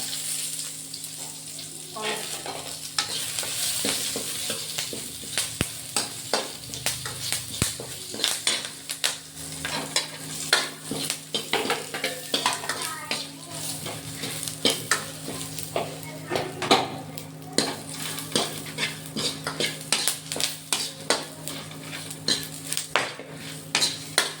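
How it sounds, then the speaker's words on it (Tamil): Dried red chillies fry in a pan for a fish curry, a steady sizzle broken by frequent scraping, clinking stirs of a utensil against the metal, close and fairly loud with no talking. "இது வரமிளகா நல்லா வறுக்க"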